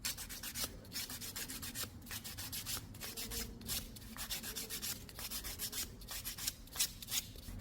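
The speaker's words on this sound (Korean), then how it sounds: "여기서 이제 파일로 반듯하게 좀 갈아 볼게요" A nail file rasps back and forth across a toenail to file it straight, producing steady rhythmic scratching strokes, close and fairly quiet, with no talking.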